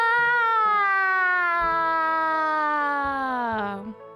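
A voice imitates a siren, holding a long rising-and-falling harmonic wail for about four seconds that sinks at the end, close and loud.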